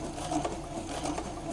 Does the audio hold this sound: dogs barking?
no